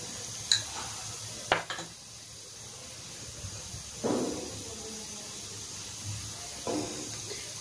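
Ghee spooned into a kadhai on a gas stove, with a few sharp metallic clinks of spoon against the pan over a faint low hiss, fairly quiet and without talk.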